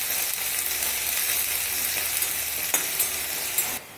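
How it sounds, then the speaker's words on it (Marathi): Finely chopped onions frying in a pan with black pepper and bay leaf, a dense, even sizzle close up with a couple of faint stirring knocks near the end. "आणि त्याला आहे ना लाईट ब्राऊन होईपर्यंत आपल्याला फ्राय करून घ्यायचं आहे."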